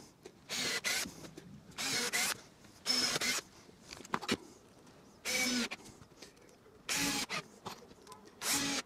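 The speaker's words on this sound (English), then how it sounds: "adding the top, again simply with screws driven through the top into the sides" Power drill driving screws through a wooden bench top into its sides, six or so short whirring bursts of about a second each, close and loud, separated by brief quiet pauses with small knocks.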